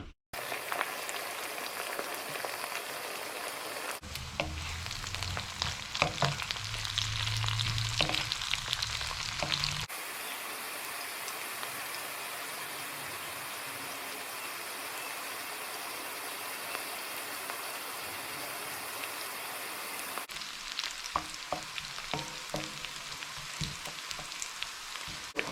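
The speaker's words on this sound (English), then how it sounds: "I finished caramelizing my onion there in that ghee and oil" Onions frying in ghee and oil crackle and sizzle steadily and close up, with a few louder stirring passages breaking into the continuous hiss for about twenty-five seconds.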